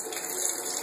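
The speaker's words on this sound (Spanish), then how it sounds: "Abren la canilla de caliente." Hot water tap running from a gas water heater, a steady close hiss of flowing water without a break over a brief moment.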